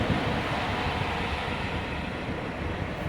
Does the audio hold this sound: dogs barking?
no